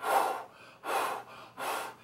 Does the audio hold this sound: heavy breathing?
yes